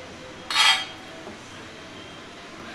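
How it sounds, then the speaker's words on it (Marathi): A serving spoon clinks sharply once against a small metal pot while cooked bottle gourd kofta curry is dished out, then the kitchen goes quiet. "आता मी एका छोट्या भांड्यात काढून घेते"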